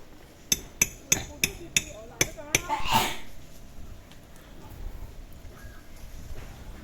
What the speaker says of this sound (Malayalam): ആങ്കർ ബോൾട്ട് പ്ലേറ്റയിൽ വെച്ചിട്ട് അത് അടിച്ച് മുറുക്കുന്ന മുറുക്കുന്നതാണ് ഞങ്ങളിപ്പോൾ ചെയ്യുന്നത്